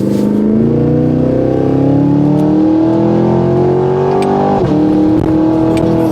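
Cadillac Escalade V SUV with upgraded brakes, its big engine revving loudly and climbing steadily in pitch, with a sharp upshift pop and a brief dip before the engine note resumes, close and continuous.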